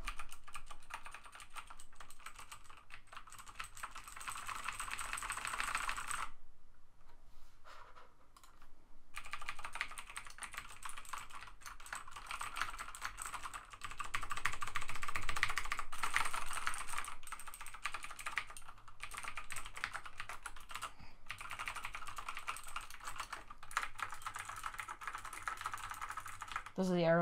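Keystrokes on a Razer BlackWidow Ultimate 2014 mechanical keyboard, a dense run of crisp clicky presses with a brief pause partway, close and fairly quiet, with a person speaking at moments.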